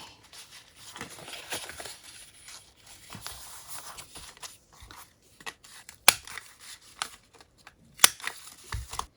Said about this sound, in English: you basically just draw around and then cut with your scissors